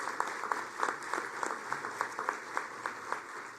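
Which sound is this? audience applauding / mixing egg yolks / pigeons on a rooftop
audience applauding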